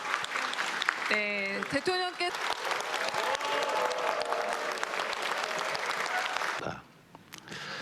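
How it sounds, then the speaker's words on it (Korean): A standing audience bursts into sustained applause to welcome the president, dense clapping filling the hall for several seconds while a presenter speaks over it, then fading to quieter room noise near the end. "우리 같이 자리에서 일어나서 큰 박수로 맞이해 주셨으면 합니다"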